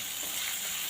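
Onion fries in a pan with a dense, even hiss of sizzling oil, close and steady for about a second.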